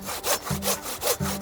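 A hand saw cuts through a wooden log outdoors in the snow, making about four quick, rhythmic back-and-forth rasping strokes, close and clear.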